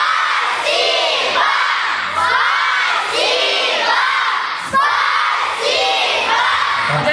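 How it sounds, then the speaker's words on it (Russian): A loud crowd of children at a summer camp award ceremony shouts in unison, three rhythmic bursts of massed voices, near and full, with cheering between the shouts. "А давайте сейчас так громко все крикнем 3 раза спасибо, чтобы Артем там услышал."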